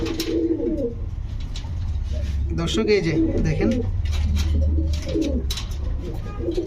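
Low, throaty cooing of pigeons, including a large pigeon chick, repeats nearby while someone speaks over it, with some rustling and faint background hum.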